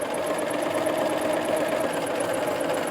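A Simplicity 8133 sewing machine stay stitching fabric, a steady close whirring hum with a fast regular ticking rhythm running continuously throughout.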